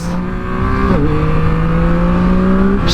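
The CP3 engine of a 2024 Yamaha MT-09 SP motorcycle revs loudly and close by, its pitch dipping briefly and then holding a steady high drone, heard alone.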